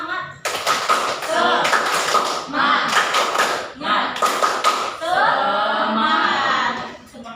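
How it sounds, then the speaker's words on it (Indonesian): An audience at an Indonesian teacher-training (PPG Prajab) gathering does a rhythmic spirit clap: several bursts of loud group clapping in patterned rhythm, separated by short gaps, with voices and chanting mixed in. "Coba tepuk semangat"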